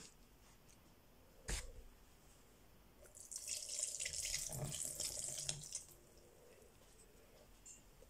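Milk poured into cake batter in a bowl: a single knock, then a couple of seconds of soft, hissy pouring and splashing that stops abruptly, quiet and close with a faint room hum around it.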